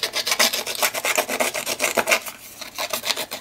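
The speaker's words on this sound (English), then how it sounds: "So in fact I think I'm going to scruff all of these pieces that I've got here." Craft pieces being scuffed by hand for a Halloween project, a steady series of close rasping rubs repeating in quick strokes with no talk.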